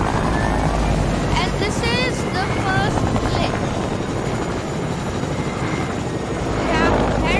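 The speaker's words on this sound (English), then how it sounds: "Take this chopper here." A helicopter in the Fortnite video game drones loudly and steadily throughout, with its rotor noise close and continuous while a voice talks over it.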